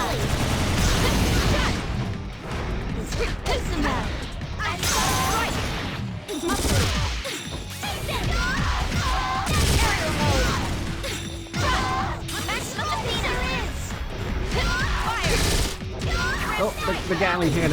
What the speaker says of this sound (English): the Gatling cannon of doom